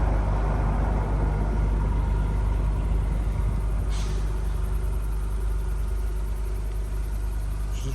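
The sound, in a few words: 2021 Acura Type S engine idling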